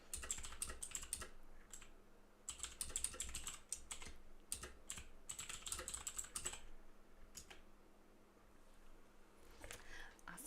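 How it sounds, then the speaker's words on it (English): Rapid clicky computer keyboard typing in bursts, close and crisp, with short pauses between runs of keystrokes and a low hum underneath. "Sorry about my clicky clacky keyboard in the background."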